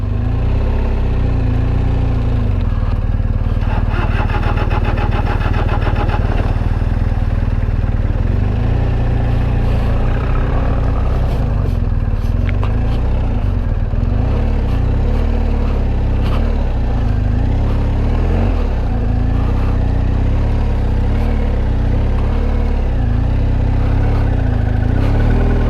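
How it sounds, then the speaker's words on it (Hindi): A motorcycle stuck in desert sand at Wadi Rum rumbles loudly and continuously, its engine idling and revving in uneven surges close by. "ओए होए बहुत गंदी तरीके से सैंड में फंस रही है बाइक।"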